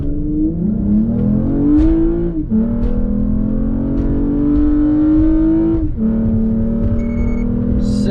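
A modified Toyota Camry carrying two adults accelerates hard, its engine note climbing steadily through the gears with brief dips at each shift, loud and close throughout.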